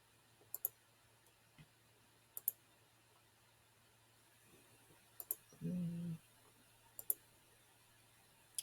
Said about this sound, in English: Okay, so I'll just click on next, next, next, so we can go through with this.